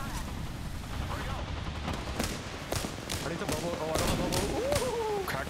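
Apex Legends gunfire crackles through a ranked match, with repeated sharp shots and bursts at moderate loudness under ongoing background game noise.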